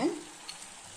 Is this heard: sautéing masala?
yes